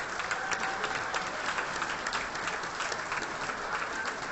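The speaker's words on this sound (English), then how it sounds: "So a big round of applause for our sponsors this evening." Evening event audience applauds for its sponsors in a continuous, even wash of clapping that lasts throughout, with a faint crowd murmur beneath.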